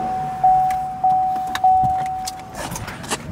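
The power window of an 800 hp Corvette Z06 hums up in short motor pulses, with a steady electronic chime sounding through it inside the cabin.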